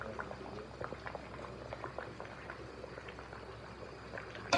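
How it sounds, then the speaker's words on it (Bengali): Liquid boils in a pot with a steady stream of bubbling and soft plopping, close by and fairly quiet, with no talking. "কিভাবে ফুটছে, বক বক বক বক বক বক করে।"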